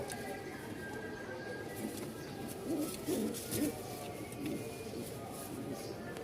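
Ghiyachulli fancy pigeons coo softly in a series of low, rhythmic calls within a faint background hum, with someone talking quietly nearby.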